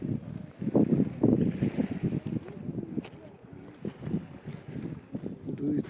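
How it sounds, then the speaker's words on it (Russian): A light breeze blows along a seaside promenade in the evening, heard as steady wind rumble buffeting the microphone, with faint surf or water in the background. Nobody talks, though the gusty noise sometimes sounds voice-like. "Здесь есть ветерок, но не сильный."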